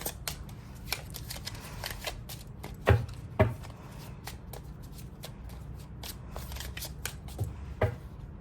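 Oracle cards shuffled by hand, a continuous run of fast papery riffles with a few louder snaps and taps, close up and mostly without talk.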